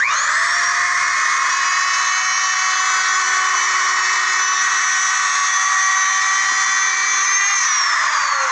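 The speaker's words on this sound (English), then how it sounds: "the router just rides on these 2 pieces of wood, and I can move it around" A power router planing a slab of epoxy and colored pencils whines at a high steady pitch, spinning up sharply and holding constant for several seconds before winding down, loud and close.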